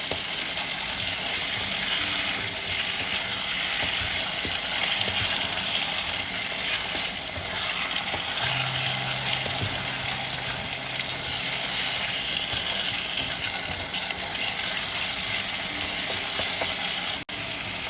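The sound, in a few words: tomato being stirred and fried for fish curry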